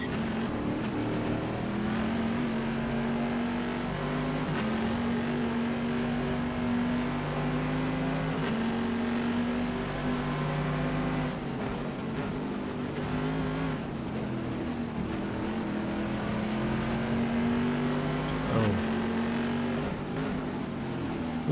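Aston Martin race car in a four-hour endurance race at Imola, its engine droning loudly and steadily throughout with small pitch dips and rises as it holds its line, one sharper downshift-like drop near the end.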